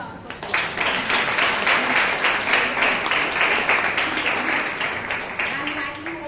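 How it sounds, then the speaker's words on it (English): A crowd applauds steadily with rapid, dense clapping that holds for several seconds before easing slightly, a voice faintly audible beneath. "Let's give them a huge round of applause."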